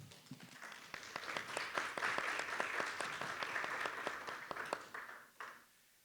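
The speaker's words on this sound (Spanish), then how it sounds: "les pido un aplauso" A panel audience at an academic dialogue session on education applauds a speaker, with quiet clapping that swells into a full, steady round and then fades out over a few seconds.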